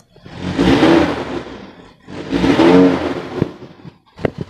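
A 1994 Toyota Kijang Grand Extra 1.5 engine is revved twice for an exhaust smoke check, each long rev swelling loudly and falling back, then a few short blips, recorded close by.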